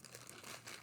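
A plastic bag crinkling continuously as it is handled up close, a dense steady crackle with no voices, while an old cross-stitch project and its thread are taken out.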